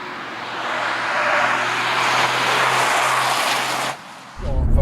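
A Toyota GR Yaris Track Pack pulls hard out of a corner: a loud, sustained engine and road roar builds for about four seconds, then briefly drops before a deep thump closes the clip.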